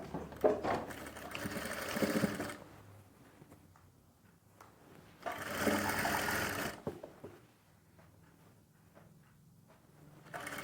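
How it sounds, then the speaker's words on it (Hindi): Sewing machine stitching a seam joining a garment pocket edge to edge, running in two loud bursts of about two and a half and one and a half seconds, separated by quiet handling pauses. "ये कट से कट को मिलाते हुए इस सिलाई को लगाना है"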